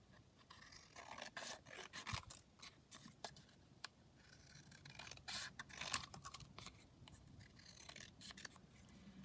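Scissors cut a round shape out of crafting material, a run of short snips and rasping scrapes at close range with a steady rhythm and no talk.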